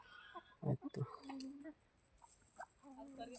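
Chicken clucking in short, faint bursts over a quiet rural background, with scattered soft calls between brief pauses.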